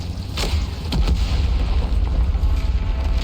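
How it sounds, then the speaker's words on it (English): An explosion in the video game Reverse 1999 rolls out as a deep, continuous rumbling roar with a couple of sharper bursts early on, with no voices. "The sudden ear-splitting pop, followed by a thundering explosion as rocks spatter across her armor"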